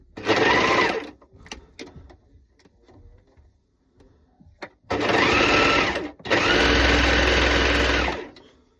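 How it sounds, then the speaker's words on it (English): An overlocker serger stitches fabric ends in short bursts: one brief whirring run, a pause filled with small handling clicks, then two longer buzzing runs, loud and close. "pop them under my overlocker"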